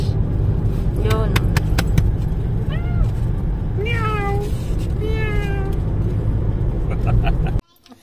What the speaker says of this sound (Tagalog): Ayan, may pusa po, sorry may pusa po.